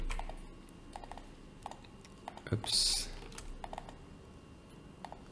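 Typing on a computer keyboard during a software tutorial, a steady run of light, sharp key clicks close to the microphone, with a short spoken exclamation in the middle.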